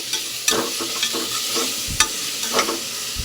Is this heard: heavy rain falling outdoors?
no